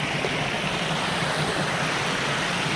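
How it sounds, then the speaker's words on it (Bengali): Water rushing down over Farakka dam roars in a steady, loud, continuous wash, close and unbroken, with no voices over it. "দেখো জলগুলো আওয়াজ হচ্ছে কি পরিমাণ।"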